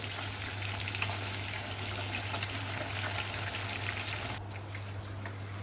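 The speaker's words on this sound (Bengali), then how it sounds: "মাছের মাথাগুলো ভেজে নেবে" Fish heads fry in hot oil with a continuous bubbling sizzle that holds steady and fairly loud, then briefly thins near the end before resuming.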